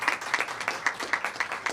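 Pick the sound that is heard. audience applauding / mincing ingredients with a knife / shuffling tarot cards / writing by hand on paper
audience applauding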